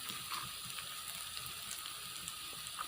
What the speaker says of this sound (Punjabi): ਪਿਆਜ਼ ਸਾਡੇ ਚੰਗੀ ਤਰ੍ਹਾਂ ਨਾਲ ਭੁੰਨ ਹੋ ਗਏ ਆ